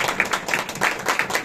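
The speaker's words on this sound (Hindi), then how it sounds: "आप खुदावंद के जलाल के लिए जोरदार तालियां बजा सकते हैं" Audience clapping during a church service, a short burst of brisk, dense applause from a gathered congregation, fairly close and steady.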